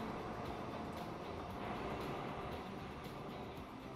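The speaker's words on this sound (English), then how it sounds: "Beautiful train." A train rolls past in the rail-building game Transport Fever 2, making a steady, fairly loud mechanical rumble with faint clicking accents that continues throughout without any speech.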